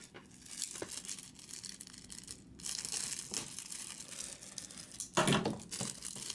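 Tape being torn and crinkled off a Darksiders 3 collector's edition box, with scratchy rustling and a few sharper rips, close and fairly quiet.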